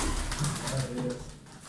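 Pigeons cooing among a large group of about 200 pigeons for sale, including Kanat Posta and Malatya pigeons, low soft coos overlapping with someone speaking nearby.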